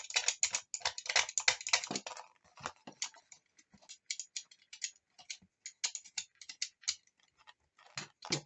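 Craft knife scraping along paper edges to distress them for a steampunk scrapbook album, heard as a close, dense run of dry scratchy strokes that thin into sparser, irregular scrapes and taps.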